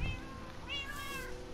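A cat gives one clear, drawn-out meow midway, fairly close and moderately loud against a quiet room.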